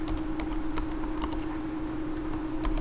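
Typing on a computer keyboard while entering mail server settings, a steady run of light clicking keystrokes close up over a low constant hum, with no talking.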